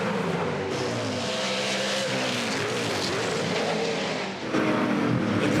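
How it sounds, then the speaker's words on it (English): V8 Supercar race cars of about 600 horsepower roar through the concrete-walled Adelaide street circuit, with a loud, continuous, echoing engine blare from several cars and the pitch shifting as they pass and accelerate. "The concrete canyons of the Clipsal 500 street circuit really echoing the 600 horsepower cars in the Fujitsu V8 Supercar Series"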